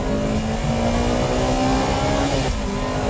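Onboard a new-model Honda Integra Type R race car at Ebisu circuit, the engine roars loudly and continuously as it accelerates, pitch climbing steadily before a brief dip near the end.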